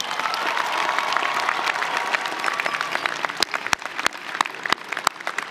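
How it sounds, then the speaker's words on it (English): A large audience at a university undergraduate commencement ceremony claps, a dense sustained applause that thins toward the end into scattered individual claps. "Let's give them a big round of applause."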